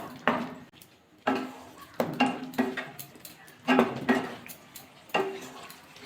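Mustard paste stirred in a pan with a little water, sugar and mustard oil for a Bengali pui and bean-seed chorchori: repeated clinks and scrapes of a utensil against the pan in irregular bursts, close by with no talking.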